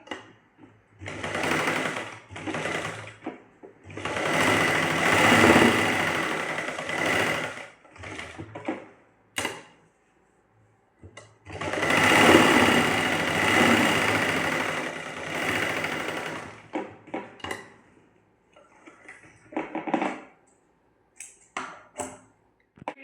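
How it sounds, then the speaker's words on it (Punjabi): A sewing machine stitches the side seam of a salwar in two long, steady runs of rapid mechanical chatter, with shorter start-stop bursts between and after them, close and clear. "ਸਾਈਡ ਦੀ ਸਲਾਈ ਮਾਰਾਂਗੇ"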